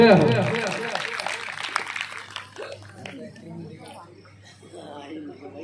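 Applause from the crowd at a Shri Shyam devotional jagran, loud and dense at the start and thinning over a few seconds into scattered claps, with voices under it.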